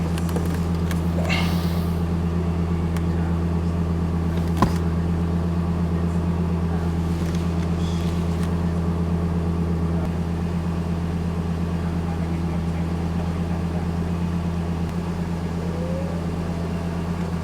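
Lexus LFA V10 engine idling steadily, a low continuous hum with strong even harmonics held at a constant level throughout, with a single brief click partway through and no talk.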